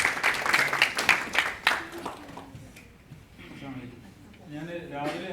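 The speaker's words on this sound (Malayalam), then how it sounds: "Let's give A big clap." Audience applause at a mind-tuning workshop in a Doha hotel function room, a loud burst of clapping that fades out after about two seconds, then quieter room sounds with talk.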